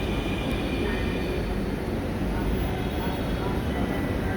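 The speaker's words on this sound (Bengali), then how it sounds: "এইমাত্র মতিঝিলগামী একটি মেট্রো এসে স্টেশনে পৌঁছালো।" A Motijheel-bound metro train rumbles steadily into Agargaon station in Dhaka, a loud continuous roar of wheels and motors filling the space.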